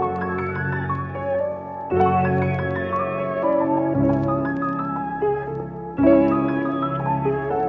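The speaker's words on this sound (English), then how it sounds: "the reverse piano with the original piano," Reversed piano layered with the original piano in a dark orchestral trap melody. Swelling sustained chords are joined by struck notes, changing in sections about every two seconds, loud and full.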